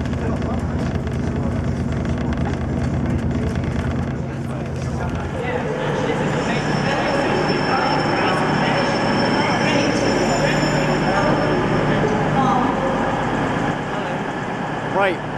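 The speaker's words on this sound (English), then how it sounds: "behind me you can see the train that I got on at Birmingham New Street" A train rumbles and idles steadily at a railway station with broad mechanical noise, a faint high whine, and a low engine drone throughout; no clear talk stands out.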